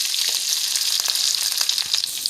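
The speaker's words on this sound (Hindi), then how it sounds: "अब हम ये गोभी, गाजर, मटर, मूली को कढ़ाई में डालेंगे।" Cauliflower, carrot, peas and radish hit smoking-hot oil in a kadai for a mixed pickle, producing a loud, dense, even sizzle with fine crackles, close and uninterrupted.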